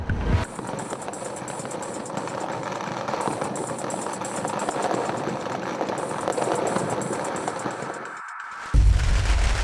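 Dense, rapid crackling bursts of firecrackers go off continuously for several seconds in China, loud and close, then stop abruptly before a short rumble.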